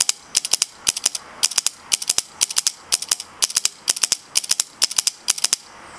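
A Spyder Fenix paintball marker fires in ramp mode, giving sharp, loud, close shots in rapid clusters of three or four with a repeating, burst-like rhythm throughout.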